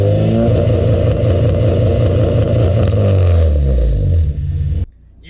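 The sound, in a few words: Honda Civic engine revving on launch control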